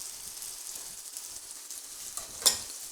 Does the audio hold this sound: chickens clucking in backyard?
no